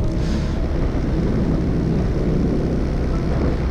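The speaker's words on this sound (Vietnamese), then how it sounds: "lấy flycam để bay một vòng ở bên trong cái thị xã" Flycam drone flies over a riverside town in Phu Yen, Vietnam, giving a steady dense whirring buzz with strong wind-like rumble throughout, loud and continuous with no clear speech.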